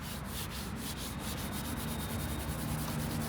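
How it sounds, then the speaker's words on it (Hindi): Gritty soil being rubbed by hand over the paint protection film on a Range Rover Sport, a steady, close, continuous scraping rub with a faint rhythmic back-and-forth pulse. "मैं इस गाड़ी के ऊपर मिट्टी रगड़ रहा हूँ प्रैक्टिकली"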